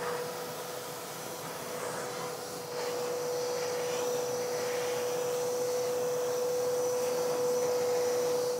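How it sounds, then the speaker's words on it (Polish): A vacuum cleaner fitted with a soft nozzle attachment cleans a car's door sills under the rubber seal, giving a steady, loud, continuous whine and rush that shifts slightly in pitch partway through. "trzeba zwrócić uwagę na odkurzanie progów, ponieważ tu pod uszczelką zbiera się bardzo dużo piachu"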